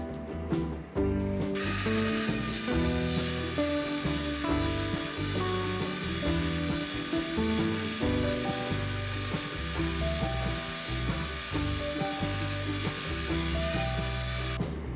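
A thick-bladed saw cuts through a rock for rockhounding, giving a loud, continuous mechanical grinding whine with a shifting pitch that runs for the whole stretch.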